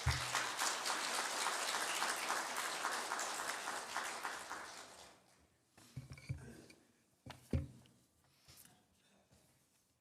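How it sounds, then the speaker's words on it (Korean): Applause from a church congregation welcoming a guest speaker during a Sunday service, dense and steady for about five seconds before thinning out into scattered claps and a few louder isolated sounds. "우리 교수님 나오실 때 박수로 환영하겠습니다."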